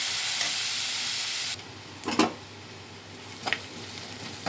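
Chopped onions with a little salt frying in a pan, a steady loud sizzle for about a second and a half, then a softer hiss broken by a few short stirring scrapes.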